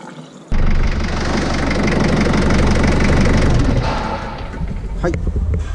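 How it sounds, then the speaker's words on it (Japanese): A car engine idles steadily during warm-up after a thermostat replacement, loud and close with a constant low hum, easing slightly toward the end as faint clicks and a voice come in. "今ですね暖気運転したんですけど"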